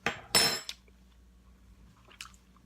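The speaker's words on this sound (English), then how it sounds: "Let me grab a spoon real quick that I have on my counter just waiting for me." A spoon lifted from a kitchen counter: two quick metallic clatters close together at the start, then near silence and one faint clink near the end.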